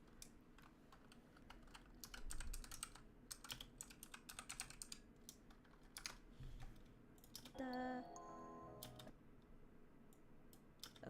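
Keyboard typing during a productivity work session, a steady stream of quiet, rapid keystrokes with brief pauses, heard alone in a room with faint background noise and a short tonal chime partway through.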